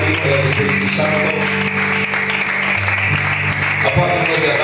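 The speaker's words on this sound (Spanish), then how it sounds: "dale ese fuerte aplauso al Padre, al Espíritu Santo." A church congregation applauding, steady clapping that runs under a preacher's amplified voice throughout.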